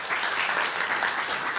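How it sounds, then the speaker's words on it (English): Steady audience applause fills a conference room at a privacy-tech fireside chat, dense and even throughout with no talk over it. "round of applause"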